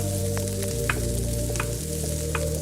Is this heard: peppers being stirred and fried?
yes